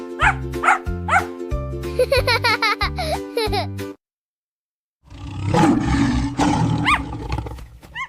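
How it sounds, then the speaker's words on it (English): After voices over a bouncy children's alphabet tune and a brief silence, a lion lets out a loud, rumbling roar that swells and trails off over several seconds, close and dominant. "L is for lion."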